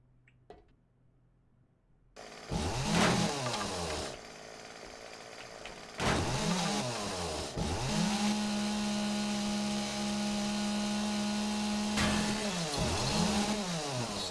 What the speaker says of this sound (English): We got a chainsaw.